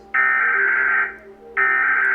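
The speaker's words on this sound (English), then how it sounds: "The one I'm used to is America's that sounds like this." The American emergency alert system tone plays as two loud, steady electronic blasts with a short gap between them. The first lasts about a second and the second begins just after 1.5 seconds. No voices are heard.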